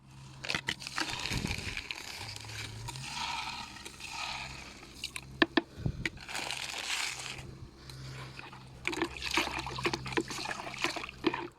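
Potassium monophosphate fertilizer solution is poured onto the soil beneath a large hydrangea bush in an autumn garden, giving close, faint bursts of trickling and splashing water with short pauses between pours.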